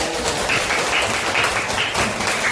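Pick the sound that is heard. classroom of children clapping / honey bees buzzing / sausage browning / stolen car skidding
classroom of children clapping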